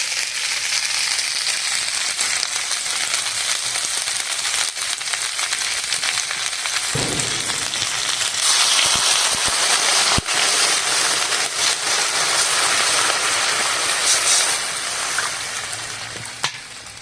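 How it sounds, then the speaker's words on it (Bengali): Potato and cauliflower frying loudly in a pan, a bright continuous sizzle, then a sudden burst of hissing as water is poured in, with a few clanks of a utensil before the sound settles. "আলু আর ফুলকপিটা ভালো করে ভেজে নিয়েছি, জল দিয়ে দেবো।"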